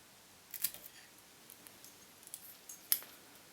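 Quiet, crisp metallic snips of scissors cutting hair, a couple of sharper clicks among faint rustling, close up with no talking.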